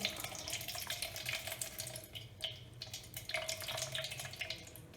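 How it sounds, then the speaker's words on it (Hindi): Water drains from soaked rice, pouring and trickling steadily into a sink, a continuous splashing flow heard close up with no talking. "अब इसका पानी निकाल देते हैं"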